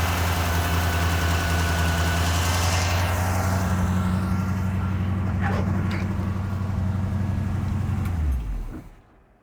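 A 1953 GMC truck engine runs loud and close as the gas pedal is worked, the throttle swelling and easing in a steady throaty drone before the engine cuts off near the end, leaving quiet.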